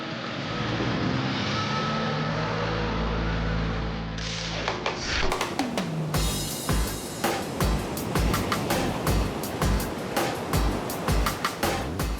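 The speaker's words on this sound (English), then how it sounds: "Walking down Manly Beach towards the shore, Cheat up, babes. we're all just taking in the waves" Ocean waves wash and break on the shore at Manly Beach, a steady broad surf roar that gives way to sharper, closer crashes and rhythmic thuds of water after a few seconds, heard alone without voices.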